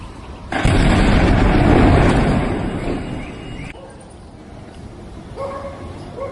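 A loud, deep rumbling explosion in Rohini, Delhi roars for a few seconds, then slowly fades into a lingering low rumble with faint background noise.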